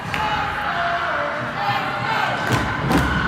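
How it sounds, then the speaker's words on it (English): Home crowd at a tournament championship hockey game roars with sustained cheering and shouting after the home side's go-ahead goal, a dense, steady wall of noise with a few thuds. "The home crowd is energized now, trying to get their team to the finish line."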